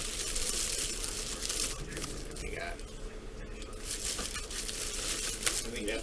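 A Shapeways parcel of 3-D printed parts being opened, with steady close crinkling and rustling of plastic and paper packaging running throughout, mixed with a voice talking.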